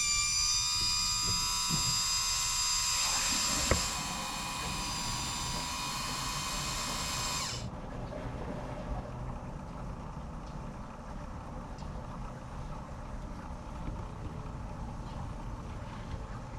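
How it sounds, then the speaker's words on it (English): Water flows steadily through an RV black tank flush, a continuous broadband rushing hiss with a brighter whine at first that cuts away partway through, leaving a low steady flow with no talking. "there is water going through my black tank flush right now"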